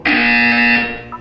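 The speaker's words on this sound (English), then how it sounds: "When you hear the buzzer, look down at the floor." A loud, harsh electronic buzzer from the Portal 2 video game sounds once as a steady tone of about three-quarters of a second, then cuts off into a brief fading tail.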